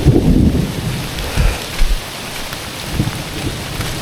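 Heavy rain pours steadily on a slippery mountain trail while thunder rumbles in deep rolling bursts. No voices are heard.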